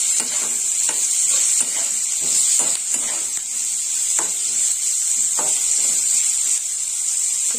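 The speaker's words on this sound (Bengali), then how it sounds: "একটু লাল লাল করে পেঁয়াজ গুলো ভেজে নেবো।" Onions frying in a pan for an Indian-style potato and pointed gourd dish, giving a steady loud sizzle and hiss throughout with occasional soft clicks and stirring scrapes, and no talking.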